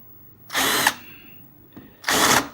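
Two short, loud bursts of a power drill countersinking holes in a TeamGee H6 electric skateboard deck, separated by a pause with faint background noise.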